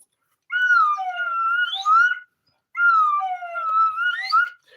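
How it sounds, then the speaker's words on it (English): A cheap plastic whistle with a makeshift plunger is blown in two long, wavering slide-whistle-like tones, each rising and falling in pitch for about two seconds with a short gap between them, close and clear with no talking. "I found my whistle. This is the very cheap version."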